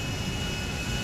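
Steady airplane engine roar from the GTA V video game, a loud continuous drone with no talk over it.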